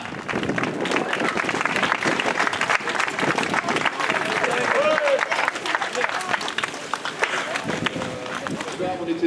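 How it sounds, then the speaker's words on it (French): A crowd claps and cheers loudly and continuously for the Levant Cap-Opale team at an outdoor raid race finish, a dense sustained wash of applause with voices mixed in. "On peut applaudir très fort Léo Fortin, Rémi Laudet, le team des Levant Cap-Opale."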